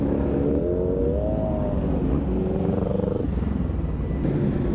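Pack of superbikes, BMW S1000RR and Ducati machines, rolling into a Miami superbike meet. Several engines drone and rev together close by, with rising and falling pitch and a steady loud rumble throughout.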